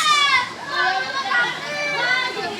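Children shouting and chattering in a kids' swimming pool at a cold spring, several high voices overlapping loudly and continuously, close by.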